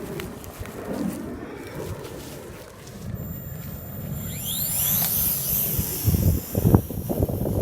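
A Sky Viper Fury drone takes off outdoors in strong wind, its high motor whine rising and sweeping upward over loud, rumbling wind buffeting the microphone.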